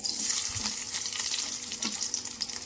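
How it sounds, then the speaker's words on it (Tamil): Shallots and curry leaves fry in hot oil, sizzling and crackling steadily with a bright hissing texture and occasional soft pops, close by and without speech. "இப்போ எண்ணெய் காஞ்சிருச்சுங்க, கொஞ்சம் தாளிச்சு விட்டுக்கலாம்."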